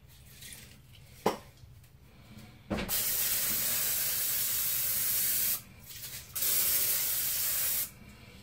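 A cooking oil spray can sprays in two long hissing bursts, loud and close, after a couple of sharp clicks and some light kitchen clatter.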